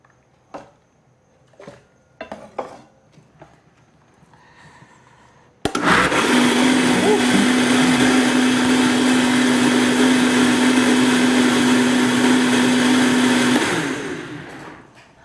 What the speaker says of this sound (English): Now we gotta go to a blender.